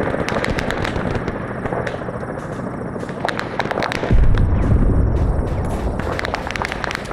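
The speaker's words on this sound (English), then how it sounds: "Hey, Firm, I'm just hearing a lot of explosions." In Arma 3, rapid bursts of gunfire crackle continuously, joined partway through by a heavy, booming explosion rumbling beneath the shots.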